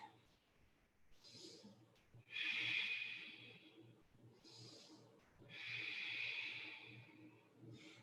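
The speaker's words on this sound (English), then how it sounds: "Full deep breath." Deep, slow breaths during a yoga session, two long hissing exhalations rising clearly above a quiet room, spaced a few seconds apart.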